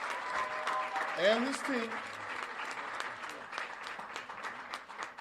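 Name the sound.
audience applause for attorney Ben Crump and team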